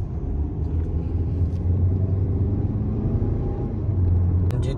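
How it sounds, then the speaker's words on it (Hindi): Cars roll slowly through a speed hump on a road in Sinaw, Oman, a continuous low engine rumble and tyre hum that swells and eases as vehicles pass nearby. "यहाँ पे ट्रैफिक भी काफ़ी स्लो हो जाती है, क्योंकि यहाँ पे एक हम्प है"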